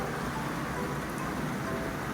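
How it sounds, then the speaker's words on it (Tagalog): Heavy rain pours steadily around a bahay kubo hut, a dense, unbroken hiss with no gaps or other sounds. "super lakas ng ulan"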